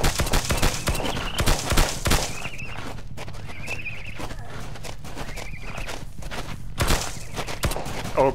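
Gunfire in the video game Phlegethon: several sharp, loud shots, a couple in quick bursts at the start and another near the end, with footstep-like thuds and quieter game sounds in between.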